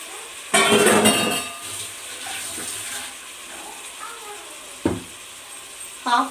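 Washed chicken hits fried onions in a pan for chicken biryani with a loud, hissing sizzle burst, which settles into softer steady frying broken by a couple of sharp clatters.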